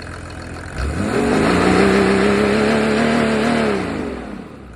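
A Mercedes OM603 3.0-litre diesel engine revs up close and loud, climbing quickly, holding a high droning pitch for a few seconds, then falling back toward idle.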